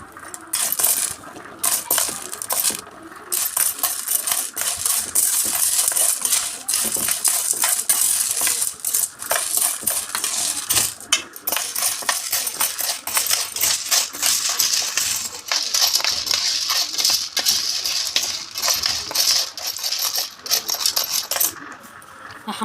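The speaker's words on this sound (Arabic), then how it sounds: "انا حطيت شويه سمنه في الاول، وهحمر بقى المكرونه بتاعتي كده اهو" Pasta frying in ghee in a pan while being stirred: a dense, continuous crackle and sizzle with metallic scraping and clinks of the utensil against the pan, loud and close throughout.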